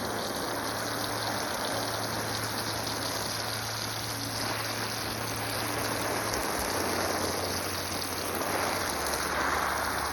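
Water flows steadily from a garden water pump used for watering, a continuous loud rushing spray with a low motor hum beneath, no talking.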